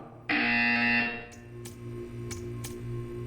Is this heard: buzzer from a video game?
yes